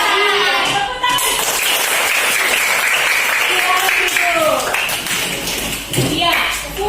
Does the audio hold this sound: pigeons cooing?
no